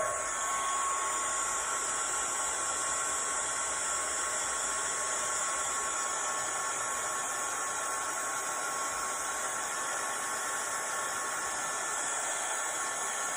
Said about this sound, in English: get the heat gun warmed up, and then we'll start heating it up